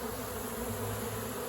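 A honey bee swarm buzzes steadily around a hive box, forming a dense, continuous hum. It stays close and even throughout, with no talking.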